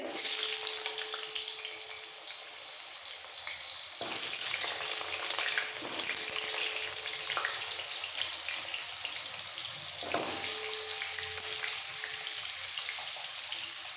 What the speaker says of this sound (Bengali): এবার এর মধ্যে দিয়ে দেবো আলু গাজর আর পেঁপে তিনটে সবজি একসাথে ভেজে নেব